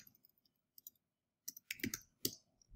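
Soft computer keyboard keystrokes tap in a few scattered clusters, faint and close, with short pauses between bursts and no talking.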